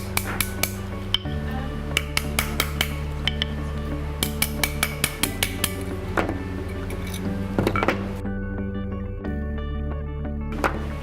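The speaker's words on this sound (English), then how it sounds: "And again, hammer it in place." Sharp metallic taps of a hammer forming a silver ring ring out in irregular bursts, bright clinks over a steady background hum, with brief pauses between clusters of strikes.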